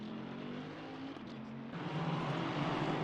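Racing cars roar in a video game at Snetterton circuit, a dense, steady engine drone that swells louder partway through, with no voice over it.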